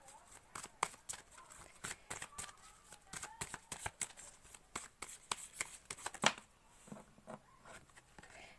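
A deck of tarot cards being shuffled and handled, giving a string of quick soft riffling slaps and taps up close, with a few quiet spoken words between them.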